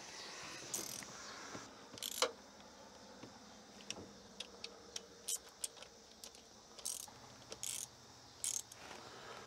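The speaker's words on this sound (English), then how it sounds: "We'll loosen that Phillips screw right there and we'll put our new coil in this bracket and bolt it back in place." A screw is loosened and a new electronic ignition coil is bolted into its bracket on a 1968 Starcraft Islander boat engine, heard as scattered close metallic clicks and ratchet-like ticks over a quiet background.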